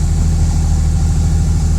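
A turbocharged BMW E46 engine fitted with new high-flow 1500cc injectors idles steadily right after starting, a loud, constant low rumble with even pulsing and a faint ticking layer above, no voices.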